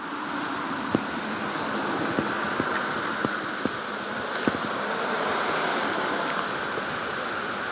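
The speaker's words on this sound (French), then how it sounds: "Et ça c'est la cascade du Petit Gornand." The Petit Gornand cascade, a waterfall near Châtel-Guyon, rushes in a steady broadband roar, loud and continuous, with a few sharp ticks and clicks on top and no talking.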